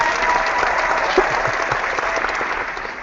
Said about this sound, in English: I'm going to give you a quick round of applause here.